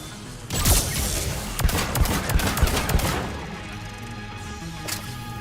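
SMG fire in the sci-fi shooter Mass Effect 3, with a string of rapid sharp shots and impacts in the first few seconds, loud and close, fading into quieter game sound.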